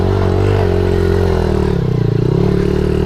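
A Suzuki DRZ 70 small dirt bike pulls hard in second gear over a hill, its loud, close, buzzy engine note holding steady and then dipping slightly.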